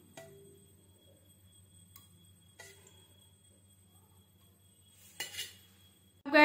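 A metal spoon clinks against a pan while ghee goes in for water chestnut halwa, a few sparse taps and scrapes spaced out in a quiet room, ending in a louder clatter.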